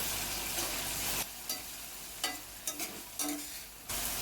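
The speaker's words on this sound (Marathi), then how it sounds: "त्यामध्ये टमाटर पण आपल्याला छान आता याच्यात शिजवून घ्यायचे." Onion and tomato stir-frying in a pan for egg bhurji, a broadband sizzle that drops out after a second, then brief spatula scrapes and stirring bursts return before the sizzle resumes.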